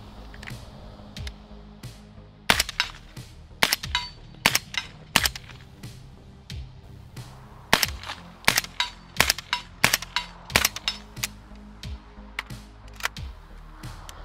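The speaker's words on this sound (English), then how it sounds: "So we're moving on to some 200 grain subsonics from Cellier and Below, S&B. Let's see how they sound." Suppressed 300 Blackout rifle firing 200-grain Sellier & Bellot subsonic rounds through a HUXWRX Ventum 7.62 3D-printed suppressor: a long irregular string of sharp, fairly muted cracks, some in quick pairs, with faint mechanical clatter between shots.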